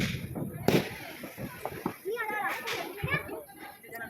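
Diwali firecrackers bursting at a family celebration, with a sharp loud bang near the start and scattered smaller pops following, mixed under children's voices and chatter throughout.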